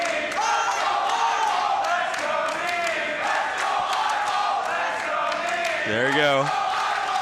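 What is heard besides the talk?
crowd chanting at a Tetris championship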